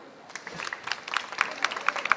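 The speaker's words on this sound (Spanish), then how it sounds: "Les damos un fuerte aplauso." Audience applause at a university stand after a talk by María Celeste and Cecilia builds from scattered claps into fuller, moderately distant clapping.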